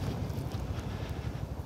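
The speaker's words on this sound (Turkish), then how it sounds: "Çok az bir sesi var, rüzgar sesi." Wind buffeting a phone's microphone outdoors gives a steady, low rumbling roar with soft gusty swells and no voices, lasting under two seconds.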